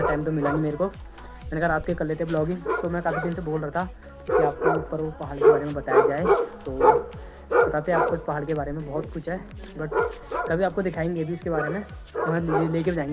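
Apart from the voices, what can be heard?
dog barking at night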